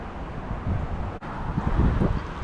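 Wind gusting steadily past a roadside creek, a broad rushing noise buffeting the microphone, swelling in strength toward the end with a brief dip midway.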